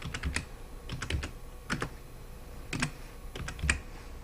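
Keys on a computer keyboard tapped in quick bursts of three or four clicks separated by short pauses while a title is entered in Adobe Premiere Pro CC 2017; close, clear and fairly quiet, with no talking.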